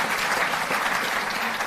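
Loud, dense applause from an audience at a Delhi government ceremony honouring national athletes, steady and continuous throughout with no voices over it.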